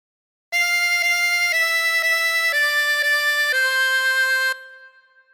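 A 20-hole tremolo harmonica plays the opening phrase of Twinkle Twinkle Little Star, a string of steady, wavering reedy notes with a short break between each one, loud and close with no other sound, and the last note fades away.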